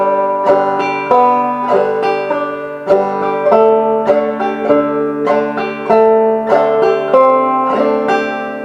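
Clawhammer banjo playing Skip To My Lou, a steady rhythmic strum of bright plucked notes and chords in a bouncing pattern, clear and close with no voices.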